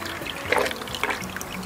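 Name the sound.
small flowing creek on the Washington coast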